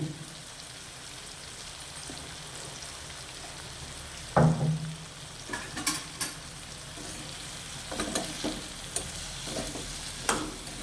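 Eggplant pieces cooking in oil for vankaya rice, a faint low sizzle with scattered stirring clinks and scrapes, one sharper knock near the middle, quiet and without talk.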